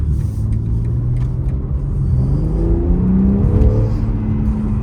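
A BMW M3 Jahre Edition accelerates hard through a pull, its engine note a loud, close, continuous roar that climbs steadily in pitch, with no talking.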